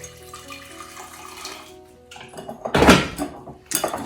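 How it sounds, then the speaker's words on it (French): Hot water is briefly poured into a washed glass jar to scald it for sauerkraut, a short splashing gush after quieter kitchen sounds and a tap-like trickle. "je vais un peu ébouillanter avec de l'eau chaude."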